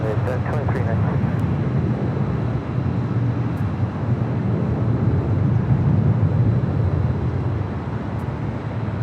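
An airliner taking off at Los Angeles International Airport produces a loud, continuous low roar from a distance that lasts throughout, with steady broadband rumble and some wind noise on the microphone.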